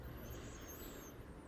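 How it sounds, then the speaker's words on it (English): Steady low traffic rumble from cars driving up and down the street outside, distant and continuous with no talk. "So for me right now, it is the cars rumbling on the streets,"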